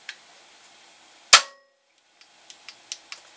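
A single sharp gunshot from a Henry U.S. survival rifle firing subsonic rounds, loud and close, followed by a brief decay and a few faint clicks and rattles from the action afterward.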